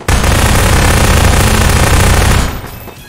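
Sustained loud rapid gunfire from guns in the Garry's Mod video game, a dense continuous burst lasting a few seconds before cutting off.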